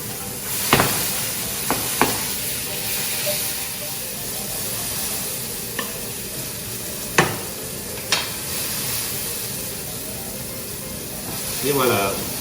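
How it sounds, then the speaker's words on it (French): Mushrooms sizzle in a very hot frying pan with a constant steady hiss, broken by a few sharp scrapes of a utensil stirring them. A voice speaks now and then over the frying. "La poêle est chaude et hop, la deuxième volée de champignons."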